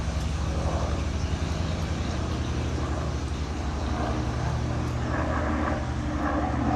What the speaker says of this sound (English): so many helicopters